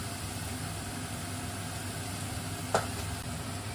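Spices and egg curry masala cook in a pan, giving a steady, low sizzle throughout with one brief scrape or stir partway through.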